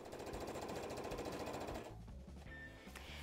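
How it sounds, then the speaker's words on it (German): A sewing machine set to a straight stitch runs in a rapid, even mechanical patter for about two seconds and then stops, followed by quieter handling noises. "An der Nähmaschine ist ein einfacher Geradstich eingestellt, mit dem könnt ihr hier wunderbar nähen."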